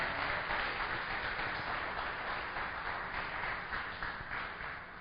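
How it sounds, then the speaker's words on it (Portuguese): A church congregation applauds in a steady, even wash of clapping that fills the room, heard somewhat muffled and distant, fading slightly toward the end. "Pode aplaudir o Senhor e vamos que vamos."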